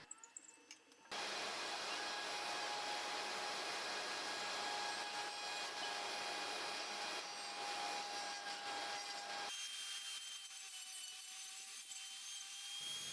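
A power tool rounds and smooths a table leg made from coconut root, giving a loud, steady whining drone with a grinding rasp. It runs unbroken for over ten seconds, then briefly eases before resuming.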